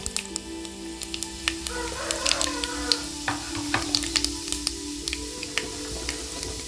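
Chana dal and urad dal frying in hot oil for tomato rice, a steady crackling sizzle with scattered sharp pops and occasional stirring scrapes, close and moderately loud, no talking.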